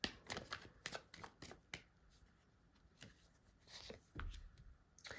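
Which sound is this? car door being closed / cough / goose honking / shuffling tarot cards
shuffling tarot cards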